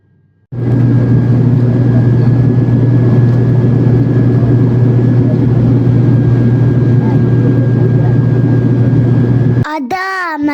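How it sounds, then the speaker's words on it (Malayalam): An airplane coming in to land at Agatti island in Lakshadweep, a loud steady engine drone with a strong low hum that starts abruptly and holds nearly unchanged, then cuts off near the end. "ഞങ്ങളുടെ വിമാനം അഗത്തി ദ്വീപില് കാലു കുത്താൻ പോവുകയാണ്."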